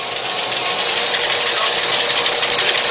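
A high-powered polisher buffing silicon wafers gives a steady, loud, close whir of broadband machine noise that holds even throughout, with no voices.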